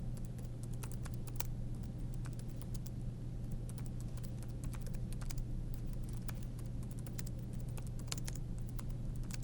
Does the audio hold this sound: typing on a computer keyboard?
yes